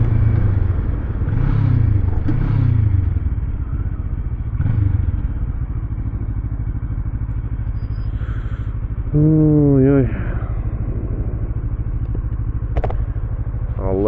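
A Kawasaki ER-6n 650cc motorcycle engine runs with a steady, close, low rumble, then rises in a brief rev before settling back into a throaty idle.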